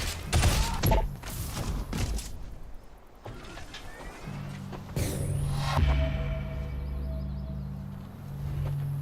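Bursts of SMG fire from soldiers in a skirmish in the video game Shadow Complex, loud rapid volleys up front giving way to mechanical thumps and a steady electronic hum.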